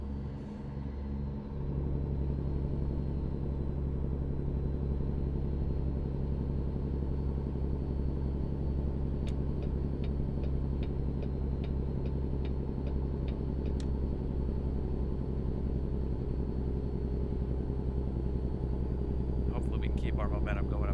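An 800-horsepower truck with 2,000 foot-pounds of torque in American Truck Simulator drones steadily uphill on a mountain road between Montrose and Denver, Colorado, a loud constant low engine hum with light ticking clicks over it.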